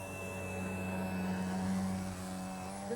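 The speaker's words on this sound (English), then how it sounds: "You hear me adding throttle?" An RC 3D model airplane's engine drones steadily with a strong tonal hum, then its pitch climbs sharply near the end as throttle is added.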